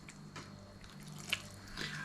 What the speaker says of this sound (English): And then the water goes in.